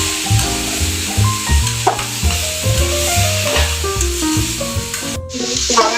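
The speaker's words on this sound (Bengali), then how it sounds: "শাকটা সুন্দরভাবে ভাজা হয়ে গেছে।" Leafy saag greens fry in a pan with a steady, loud sizzle, while a utensil stirs and scrapes through them in repeated strokes, close and continuous with no talking.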